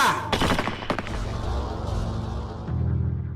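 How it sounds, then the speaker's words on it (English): Firing squad of eight rifles fires a volley, a loud cluster of sharp near cracks in quick succession at the start, followed by fading reverberant rumble and a low sustained tone. "The deafening explosion of the 8 rifles was the last thing Ahmed heard."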